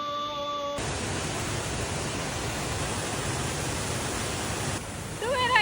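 Constant broadband rushing of the waterfall at Lata Kasar in Terengganu, Malaysia, loud and steady like falling water, briefly dipping near the end as faint voices emerge.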